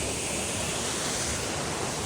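A little-known, unmarked waterfall gives off a continuous, dense roar of rushing water, steady and close with no pauses.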